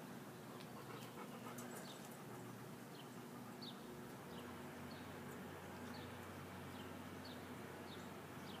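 A dog pants steadily and quietly in a backyard, with faint birdsong chirping in the background and a soft outdoor hum throughout.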